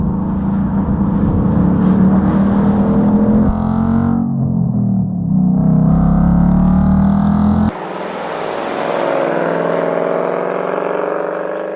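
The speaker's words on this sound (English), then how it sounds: "they just modified the exhaust system, the airflow, the intake system, and it sounds amazing." A Ford Mustang Bullitt's 5-liter V8 with a modified exhaust, intake and airflow system rumbles loudly up close, a deep engine tone that rises and falls in pitch as it revs, then shifts to a different steady drone.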